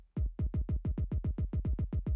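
An isolated Afro House kick drum, without any layering, thumps about a dozen times at a steady even pulse. Each hit is deep and boomy with a short decay, close and alone with no talking.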